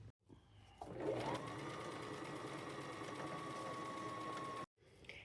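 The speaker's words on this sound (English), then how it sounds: "Okay, so I sewed it together." A sewing machine stitches a fabric lampshade cover, starting up with a rising whir and then running at a steady, even hum for about three and a half seconds before stopping abruptly.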